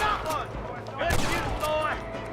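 Bursts of gunfire ring out in the Red Dead Redemption 2 game, a few sharp overlapping shots with echoing tails under game sounds, and a voice speaks between them.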